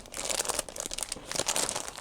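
A pack of paper is handled up close while craft supplies are sorted, producing continuous crinkling and rustling with quick, uneven crackles throughout.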